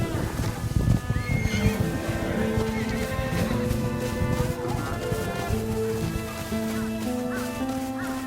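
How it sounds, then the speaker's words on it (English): Horse whinnies ring out in the video game Ghost of Yotei over a dense bed of in-game music and ambience, the neighing sitting within a busy, sustained mix rather than standing alone. "And them horses still back there running in the field"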